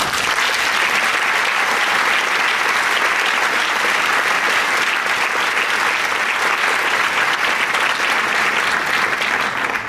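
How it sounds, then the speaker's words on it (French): A large audience applauds steadily and loudly at a French film festival event honoring the team of the film "Ma vie, ma gueule", a dense unbroken wash of clapping throughout with no voices on top. "Vous pouvez les applaudir."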